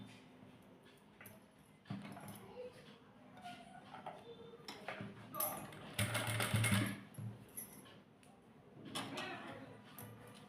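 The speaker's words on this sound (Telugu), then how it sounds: "ఇప్పుడు ఇది పెద్ద మిషనే కాబట్టి అడ్జస్ట్మెంట్ ఈ పాదంతోనే కుట్టేయచ్చు" A large sewing machine stitches piping around a hands design in bursts of whirring, louder in the middle, with soft clatter and handling sounds between runs.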